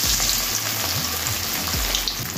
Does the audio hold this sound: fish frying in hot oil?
yes